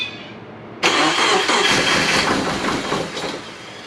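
A car engine cranks and catches abruptly, then roars loud and close in a steady rumbling idle that eases slightly toward the end.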